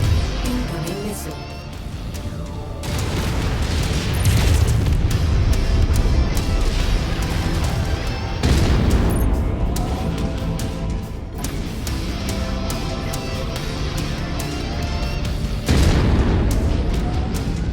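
Incoming missiles explode in the MechWarrior game, Dawn of a Legend: a series of heavy booms, each one a sudden loud blast that rolls into a long rumbling tail, with four or five impacts spread over the stretch and no talk.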